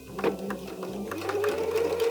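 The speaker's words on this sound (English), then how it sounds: "now we wanna sew on an angle all the way down to this pin" Sewing machine stitching an angled dart through fabric, a steady mechanical whir with regular needle taps running continuously at close range.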